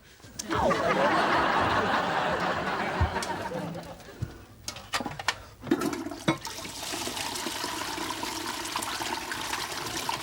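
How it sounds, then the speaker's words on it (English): Toilet flushing loudly nearby with a rushing gush of water that fades into trickling and refilling, while people laugh and talk briefly over it. "Flush it down the loo."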